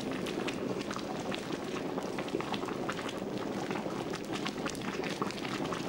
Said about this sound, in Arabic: بدأ السائل يغلي.